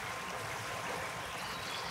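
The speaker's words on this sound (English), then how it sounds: "The sounds are getting louder, the flow of water is getting louder." Steady rushing and trickling of a flowing stream, continuous and fairly close, with no voices over it.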